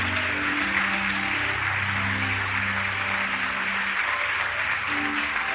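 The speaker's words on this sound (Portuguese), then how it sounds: "E vamos aplaudir mais o Senhor Jesus." A church congregation applauding in praise, steady clapping filling the room while a low sustained organ or keyboard chord plays beneath it.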